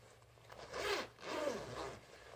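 A sturdy zipper on a Savage Gear Proguard Thermo jacket is drawn in two smooth rasping pulls, close and clear, with no talking.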